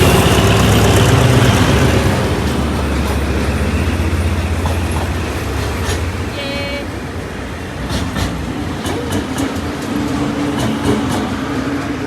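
An EV train on a test run at Wihan Daeng, a steady low rolling rumble with rail clatter and mechanical hum, loud at first then easing slightly, faint tonal squeals and clicks along the way.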